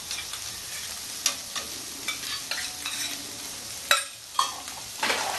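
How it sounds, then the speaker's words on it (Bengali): Prawns frying in a pan until reddish make a steady close sizzle, broken by sharp stirring scrapes and spatters at irregular intervals, with no talk. "আমি লাল লাল করে ভাজবো মাছটা, মাছটা আমার ভালোভাবে ভাজা হয়ে গেছে।"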